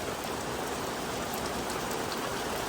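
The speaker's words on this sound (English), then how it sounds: "So unfortunately the rain did not let up, so by this point I was absolutely soaked." Steady, dense rain falls throughout during a horse ride, a constant loud hiss of drops close by with no talking over it.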